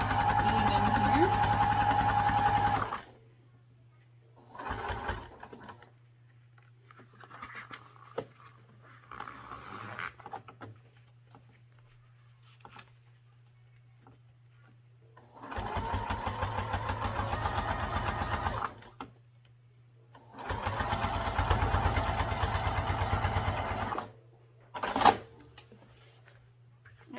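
A sewing machine stitches through three layers of sling fabric and lining in several short bursts of rapid, even whirring, separated by pauses with a low steady hum underneath.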